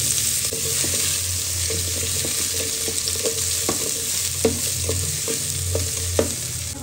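Potatoes going into oil with five-spice tempering for a rice and lentil dish fry with a steady, close sizzle, broken by scrapes and taps of a spatula stirring in the pan.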